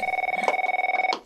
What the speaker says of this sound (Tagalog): Agun-on iti telepono ko inapay sumbatan ti awag.